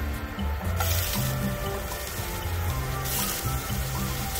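Ground galangal frying in cooking oil in a pot with garlic and onion, a soft continuous sizzle with scraping stirs, faint and close, no talking.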